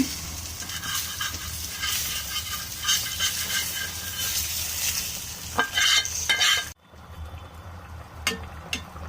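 Fish pieces go into a sizzling curry with pointed gourd in a pan: loud frying hiss and stirring scrapes, then an abrupt drop to a quieter simmer with a few clinks near the end.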